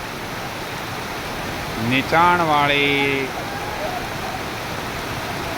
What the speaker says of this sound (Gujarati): લાખણી પંથકમાં ધોધમાર વરસાદ